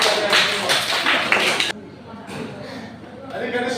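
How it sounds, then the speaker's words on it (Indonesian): Schoolchildren in a classroom clap for a few seconds in a dense burst of applause that stops abruptly, followed by quieter talk. "Mari kita tepuk tangan."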